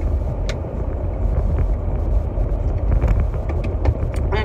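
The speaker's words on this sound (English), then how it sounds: "I'm in my truck." Steady low engine and road rumble heard from inside a moving truck's cab, continuous and fairly loud with no talking.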